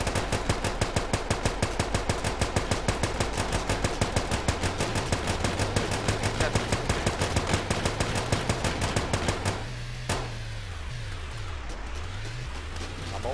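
Rapid automatic gunfire in the vehicle combat game Scraps, a long, steady stream of evenly spaced shots over a droning engine hum, stopping near the end as a lone engine note rises and falls.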